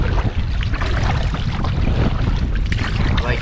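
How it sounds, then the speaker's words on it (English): Strong wind buffeting a small fishing boat on open water, a loud, continuous roaring rush with rumbling low gusts and no break. "Here's that wind I was talking about, guys."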